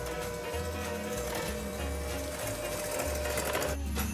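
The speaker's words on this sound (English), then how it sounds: "you're going to take your mixer and you're just going to blend that on low" Electric mixer running on low to blend dry ingredients for old-fashioned Williamsburg gingerbread cookie dough, a close, steady mechanical whir with a pulsing, chattering motor rhythm throughout.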